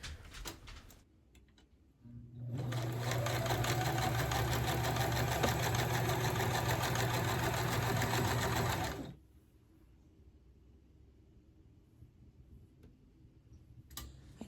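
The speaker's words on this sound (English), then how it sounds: "my sewing machine was not cooperating and kept stopping and going and stopping and going" A home sewing machine starts up and runs steadily for about six seconds with a fast, close mechanical whir and ticking, then stops abruptly into quiet.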